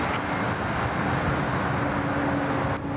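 A Vietnam Airlines airliner taxiing out at Sydney Airport, a loud, steady broadband engine rumble and roar that holds constant throughout, with no voices.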